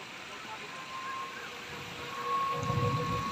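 Stormy rain hisses steadily while a low rumble of thunder swells toward the end, fairly faint overall, with a thin whine running through the background.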